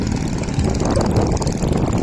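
Jet ski engine on the water at Hawke's Bay, a steady, close, loud droning motor with a buzzing propeller-like whine, running continuously with no talk.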